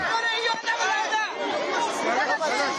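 Crowd crush outside Kabul airport, a dense close mass of shouting and overlapping agitated voices, loud and continuous with no pauses.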